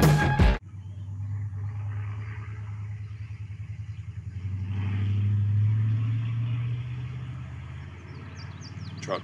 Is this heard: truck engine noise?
yes